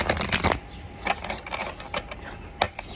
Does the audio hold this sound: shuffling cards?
yes